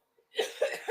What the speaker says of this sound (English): all of a sudden I've got a bad cough.